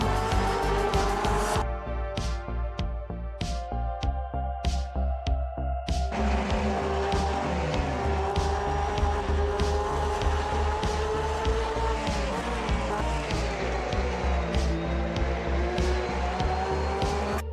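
Porsche race cars racing at Kyalami in the sim racing game Automobilista 2, engines roaring and revving through gear changes with a stuttering rev-limiter buzz early on, loud and continuous, no talk.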